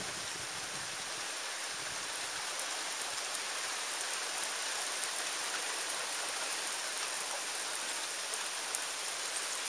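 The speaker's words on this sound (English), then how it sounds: "It's not even supposed to rain today, and it's raining." Steady rain falls on surfaces around a boat being loaded for a fishing trip, a dense, even hiss with no voices, constant from start to finish.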